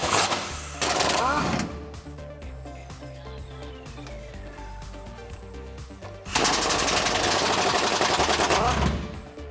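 An impact wrench loosening bolts on the rear frame rail of a 2007-2018 Silverado 1500 during a rear bumper install, loud rattling bursts at the start and again near the end, with quieter workshop sounds between.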